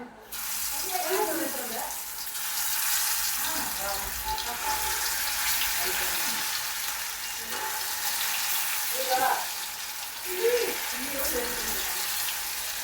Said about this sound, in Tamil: பொரியட்டுங்க, பொரிச்சிக்கிட்டு இருக்கிறேன்.